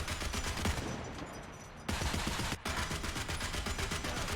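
Sustained .50 cal machine gun fire in War Thunder, a dense rapid rattle of bursts with a short pause midway, loud and close, no talk.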